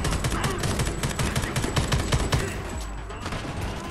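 Dense, continuous automatic gunfire from the video game Homefront: The Revolution, rapid overlapping shots rattling steadily for several seconds at close range, with no talk over it.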